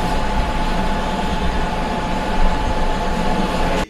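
A passenger train pulls out of Vasco da Gama railway station in Goa with a loud, steady rumble and a constant mechanical hum, swelling slightly before cutting off abruptly, with no voices.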